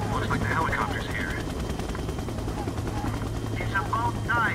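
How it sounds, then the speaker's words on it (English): Helicopter in the video game Splinter Cell: Double Agent, a steady low rotor drone running throughout, with gunfire-like texture in the mix and voices speaking over it. "Looks like the helicopter's here."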